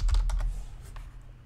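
Quick burst of clicky keystrokes on a computer keyboard, several rapid taps up close followed by a few lighter, sparser presses, with no one speaking.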